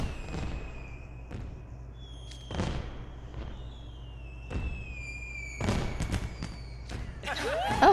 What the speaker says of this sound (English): Oh, fireworks! Where are they coming from?